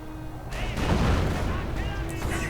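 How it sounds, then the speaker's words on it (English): Artillery strikes land in a World War II strategy video game, a dense spread of booming blasts and crackling impacts rolling over each other, with a voice faintly present underneath. "Swift artillery strike against Hans's troops."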